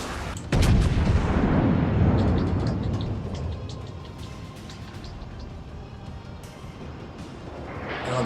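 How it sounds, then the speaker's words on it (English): Incoming shell fire in the naval battle game World of Warships, a sudden heavy booming blast followed by a long rumbling decay, with scattered cracks and a rising roar at the end. "no, not with incoming fire coming in like that"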